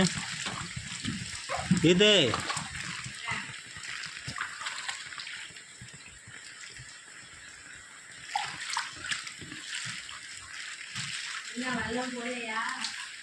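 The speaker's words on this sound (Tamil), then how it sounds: "சரியான தண்ணி கிடக்கு" Floodwater sloshing and splashing inside a house, with people talking over it and occasional louder splashes.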